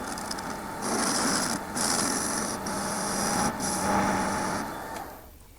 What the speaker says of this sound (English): So I better go over with the lathe.